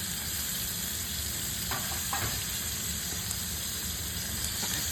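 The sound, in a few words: sausages sizzling while frying in a pan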